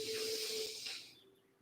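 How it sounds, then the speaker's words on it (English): A deep yoga breath drawn in slowly, a soft airy hiss close to the microphone that swells and then fades away, with no talking. "One last one, breathing in deep,"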